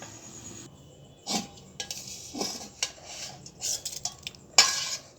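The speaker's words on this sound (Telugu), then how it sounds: "ఇప్పుడు ఇవి రోట్లు వేసి దంచేసుకుందాం" Toasted sesame seeds and coriander seeds are being pounded in a stone mortar for a cucumber chutney, heard as irregular close knocks and scraping grinds spaced through the stretch, with no talk.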